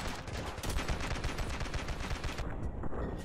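Rapid gunfire from an overpowered weapon in the game Ravenfield, a dense run of loud, steady shots that continues for about two and a half seconds before thinning out.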